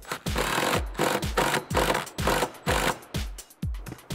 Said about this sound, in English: we'll take our T50 Torx, we'll tighten this the rest of the way up.